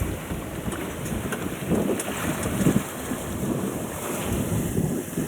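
Steady low rumble of wind and water with wave wash, like a large boat churning past close by, buffeting the microphone throughout.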